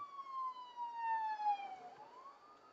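A police siren wails in a long, falling sweep that dips and then starts rising again, steady and fairly close, with no voices.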